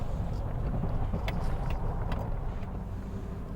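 A car drives along a road in Japan on its way to a mechanic's shop, producing a steady low engine and tyre rumble heard from inside the cabin, with faint intermittent ticks and no speech.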